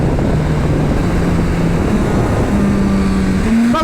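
A 1600cc stroker Suzuki Hayabusa motorcycle pulls hard in first gear, its engine note a loud, rising drone that climbs steadily and then jumps upward near the end.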